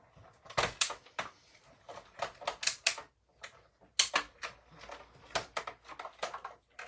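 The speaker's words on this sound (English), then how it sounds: "Let's do the die cutting." A manual die cutting machine presses through card stock in rapid clattering, ratcheting clicks that come in uneven bursts with brief pauses, close and fairly loud.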